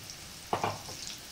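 Mushrooms drop into hot smoked bacon fat in a pan while cooking rabbit, giving a short burst of sizzling with a couple of clattering hits, then a steady faint frying hiss.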